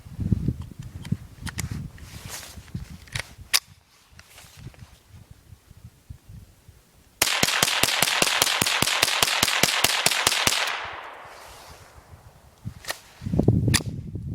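A Marlin 795 .22 rifle fires from its second ProMag magazine: sharp, loud single shots in an irregular sequence, then a dense burst of rapid cracks and a trailing rumble, with clattering handling sounds around them.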